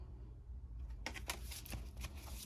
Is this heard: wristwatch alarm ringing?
no